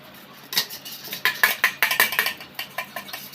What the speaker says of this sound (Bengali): এবার আমি গ্রেট করে নেব আলুগুলো